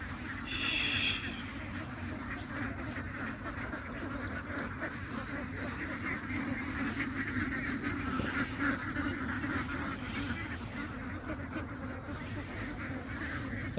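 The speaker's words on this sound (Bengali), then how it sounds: "দেখতে পাচ্ছেন একটি হাঁসের খামার" Ducks at a duck farm quack faintly and distantly over a steady wash of outdoor background noise, with no clear talk.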